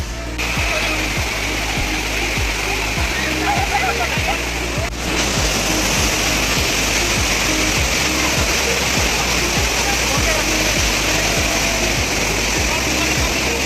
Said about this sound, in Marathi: तर असं जाऊया धबधब्याखाली